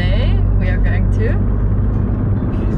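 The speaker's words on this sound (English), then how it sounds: "We have got our car and we are on the road to explore." A car drives along a road on La Gomera in the Canary Islands with its window open, a constant loud engine and road rumble running throughout under people talking.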